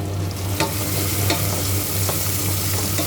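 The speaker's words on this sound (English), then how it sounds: "Going to saute it for a bit." Fenugreek seeds and mixed spices sauté in a pan for a fish curry, giving a steady close sizzle with a low hum beneath and a few brief scraping stirs.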